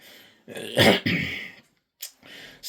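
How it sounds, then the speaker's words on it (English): A man clears his throat a couple of times, rough and close, followed by a brief breath and a short grunt. "clearing his throat a bit in sign of something serious to say"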